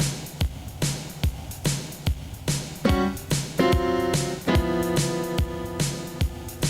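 Piano plays a modern blues left-hand pattern moving through ninth, augmented ninth and thirteenth chords, with a rhythmic pulse of low bass notes and sustained, ringing chord voicings played solo.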